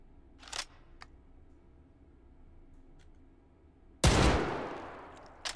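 Gunshots from a firearm in the VR shooter Hot Dogs, Horseshoes & Hand Grenades, fired at Sosig enemies: a sharp crack early on, then a much louder, close blast with a lingering decaying tail.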